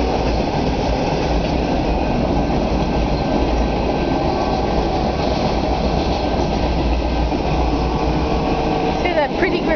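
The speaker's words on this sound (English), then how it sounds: "Okay, we're stuck at the train again." A train rolls past up close at a railroad crossing, a loud continuous rumble with rhythmic clatter of wheels over the rails.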